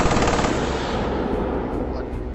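Machine gun fire from a Messerschmitt Bf 110 fighter as it brakes and climbs, a loud, continuous rattling burst that runs unbroken from start to finish, close and dense.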